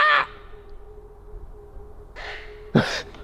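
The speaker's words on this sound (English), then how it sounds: "Maybe a big ass mutated crow." A crow caws from a tree in a forest, a few short harsh calls spaced apart over a quiet woodland background, fairly close and clear.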